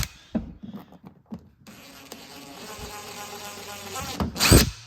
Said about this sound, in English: we're going to drill those out